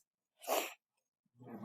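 A single sharp sneeze bursts out in a quiet classroom, followed moments later by a short burst of another voice.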